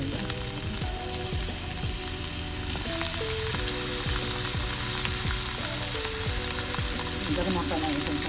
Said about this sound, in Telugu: ఇప్పుడు మనం దాన్ని వస్తువులు ఫ్రై చేస్తామండి